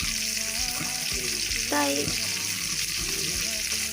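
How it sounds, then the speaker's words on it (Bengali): Fresh hilsa fish from the Bishkhali river sizzles steadily in hot oil on a stormy, rainy day, a constant crackling hiss close by, with a short spoken word cutting in partway through. "ইলিশ ভাজলাম"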